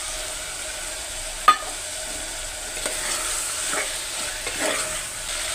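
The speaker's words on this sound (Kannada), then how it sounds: "ಚೆನ್ನಾಗಿ ಫ್ರೈ ಮಾಡ್ಕೊಳ್ಳೋಣ" Avarekalu being fried in a pan with garam masala and coriander leaves, a steady close sizzle broken by the scrape and clink of a spoon stirring, one sharp knock near the start.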